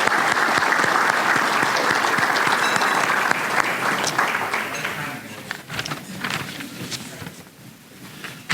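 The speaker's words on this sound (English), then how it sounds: "I'd like to ask for a round of applause to their staff for all that they've done for us this evening." A fire department award ceremony audience breaks into a sustained round of applause, dense and loud at first, then thinning into scattered claps toward the end.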